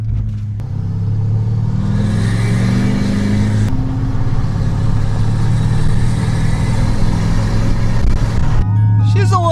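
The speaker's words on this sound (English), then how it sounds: "I love the scream that these trucks make." A diesel truck with a 5-inch exhaust revs hard close by, its engine rising in a loud climbing roar, easing briefly, then surging again before settling toward idle.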